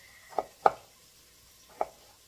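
Three sharp knife chops on a cutting board while vegetables are cut for a Gullah shrimp and okra stew, two quick strikes then a pause before a third, close and crisp over quiet room tone.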